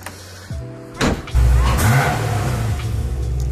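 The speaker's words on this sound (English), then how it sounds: "That's what's really awesome about the Army Tricks exhaust is that it sounds basically stock right now because the valves are closed" A supercharged Corvette fitted with an Armytrix valved exhaust starts with the valves closed, then revs up. The engine swells into a loud, deep, close roar and holds a steady, muffled, stock-like drone.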